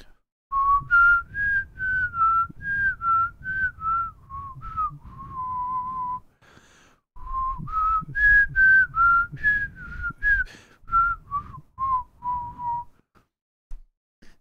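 Someone whistles a theme melody solo, a clear close tune in two long phrases separated by a short pause, with breathy low noise beneath the notes and no talking.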